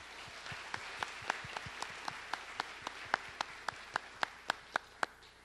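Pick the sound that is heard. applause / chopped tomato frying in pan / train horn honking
applause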